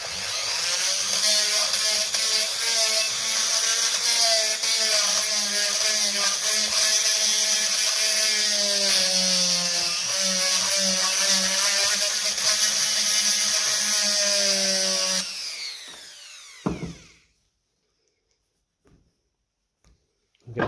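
Power tool, likely a small rotary wire brush, shining up the battery terminals and leads of a 1955 Ferguson 20 TEF diesel tractor, whirring steadily and loudly for about fifteen seconds before spinning down, followed by quiet clicks.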